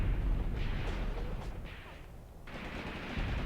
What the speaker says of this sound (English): More pre-planned artillery is falling on the crossroad.